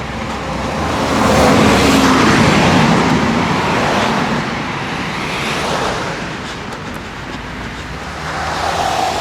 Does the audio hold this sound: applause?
no